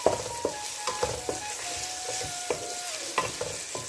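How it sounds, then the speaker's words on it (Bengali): Onion fries in a pan with whole garam masala of cardamom, cinnamon and cloves, giving a soft close sizzle broken by repeated scrapes and taps of a stirring spoon; no one speaks. "এখন একটু ভালো করে পেঁয়াজটা গরম মশলাটা একটু ভেজে নিব।"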